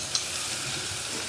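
Onions fry in a pot for tomato bisque, giving a steady, close hiss of sizzling oil that holds level throughout with no talk.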